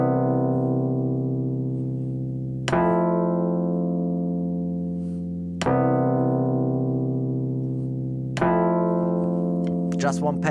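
Sustained jazzy synth pad chords from a MIDI chord-generating device in Ableton Live, three held chords each struck sharply and ringing out with rich harmonics, fairly loud and alone with no talk.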